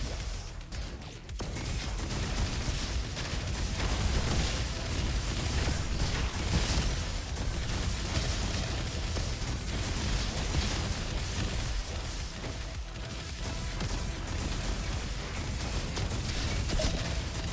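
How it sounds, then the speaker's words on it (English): Rapid bursts of small video-game explosions pop and crackle almost nonstop over a dense, loud wash of game noise, with no clear gaps between blasts. "Getting knocked around again by mini explosions everywhere."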